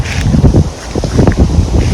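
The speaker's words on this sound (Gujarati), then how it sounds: "પવન જોરદાર ફૂંકા માંડ્યો છે મિત્રો" Strong wind gusting across open ground by the Sabarmati river, a rough, continuous roar that surges and dips for about two seconds, loud and close to the microphone with buffeting.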